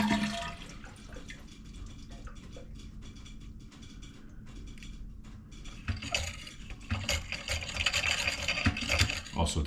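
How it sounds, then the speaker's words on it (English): A household toilet flushes with its flapper held up, draining the tank in a steady rushing gush that swells louder and hissier toward the end, heard up close. "flush the toilet and just hold this down. That'll hold the flapper that's in there up and get as much water out of the tank"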